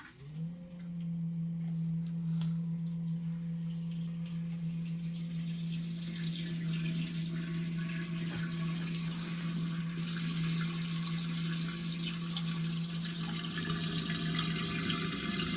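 A koi pond pump switched on, with water flowing through a filter: a steady mechanical hum that starts and settles within a second, then a continuous rushing, splashing flow at constant loudness, no speech.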